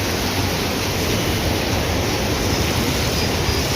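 Waterfall tumbling down at Rambara on the Kedarnath trek route, a steady dense broadband roar of falling water filling the whole clip at constant loudness with no voices.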